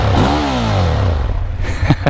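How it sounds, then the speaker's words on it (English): A 2020 Ducati Monster 1200S motorcycle revs its exhaust once, the engine note sweeping up loudly and falling back, then settling into a rough idle with a few sharp pops, all close by and without talk. "Let's hear that exhaust."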